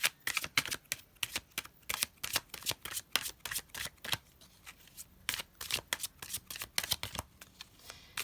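Tarot cards are shuffled close up, crisp rapid riffles and snaps in a steady, repeating rhythm that goes on throughout with no talking.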